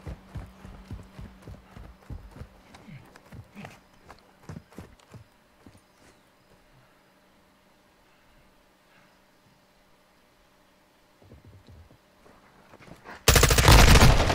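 Bursts of gunfire in a Modern Warfare 2 team deathmatch, with rapid sharp shots early on, then a quiet stretch and faint game noise, ending in a sudden loud close burst.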